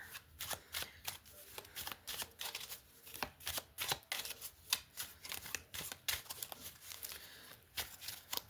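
A new deck of tarot cards being shuffled in fast riffling bursts, close and fairly quiet, with brisk repeated flutters and snaps of card stock and no talking.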